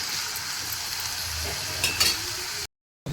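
Onions sizzle steadily in a pan while salt is stirred through them for a vegetable saagu, a close, continuous frying hiss with soft scraping strokes and a brief cut to silence just before the end.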